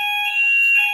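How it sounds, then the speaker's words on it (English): A fire alarm sounds during a scheduled morning test, a loud steady electronic tone held without a break for about a second, with no talk. "There is a fire alarm test this morning."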